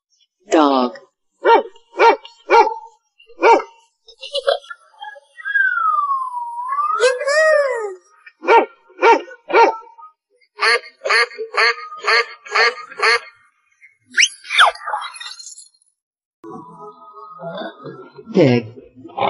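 A cartoon dog barks in repeated short, sharp bursts, close and loud, broken by a drawn-out wavering howl-like call and ending on a whiny yelp.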